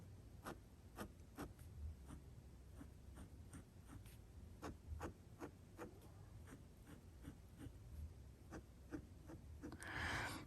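Extra fine nib of a Kaweco Sport fountain pen scratching across paper in quick, rhythmic strokes, close and faint, each stroke a short dry scrape with steady room hiss beneath.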